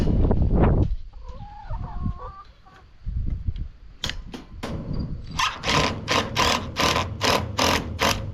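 Chickens clucking and squawking inside a chicken tractor, loud and close, with a burst of rapid repeated calls in the second half.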